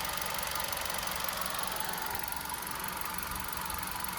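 A Hyundai i20's 1.2-litre petrol engine runs steadily at idle, a loud, continuous close-up hum with a slight knocking texture and no pauses throughout.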